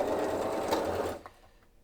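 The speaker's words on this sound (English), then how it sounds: "You can also go really fast." A sewing machine runs at high speed, a dense rapid whirring that holds steady and loud for just over a second, then cuts off, leaving a few faint mechanical clicks.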